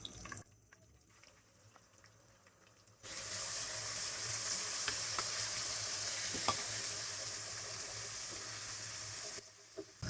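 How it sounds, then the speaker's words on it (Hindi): Garlic and ginger paste hits hot oil with cumin in a pan for a Hyderabadi boti ka salan, bursting into a loud, steady sizzle after a quiet start, then cutting off near the end; no one speaks. "अब हम इसमें 2 स्पून लहसुन और अदरक के पेस्ट डालेंगे।"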